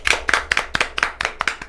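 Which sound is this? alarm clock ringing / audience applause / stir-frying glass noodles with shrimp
audience applause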